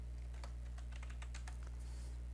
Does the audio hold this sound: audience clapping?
no